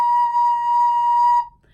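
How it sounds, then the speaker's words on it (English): A single sustained recorder note played with one back hole and one front hole covered: a clear, pure whistle-like tone held steadily for over a second, then ending cleanly. "Right here, I'm covering a hole in the back and a hole in the front, and it sounds like this."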